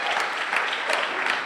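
Church congregation applauding the kids during a Sunday Easter service; a brief, continuous burst of many people clapping, full and even in level.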